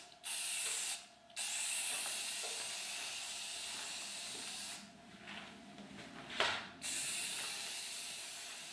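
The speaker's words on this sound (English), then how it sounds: "We're going to spray that product onto the ski." Swix Cera F liquid wax hisses from a spray bottle onto a ski in several long steady bursts separated by brief pauses, close and clear with no talking.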